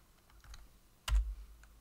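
A few light keystrokes on a computer keyboard during a programming lecture, ending in a louder cluster of clicks, close and without speech.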